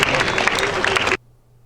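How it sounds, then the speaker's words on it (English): Audience applause for special guests and dignitaries at the Northern California Cherry Blossom Festival, a dense burst of clapping from a crowd that stops abruptly after about a second. "Another round of applause for all of our special guests and dignitaries who came to join us today"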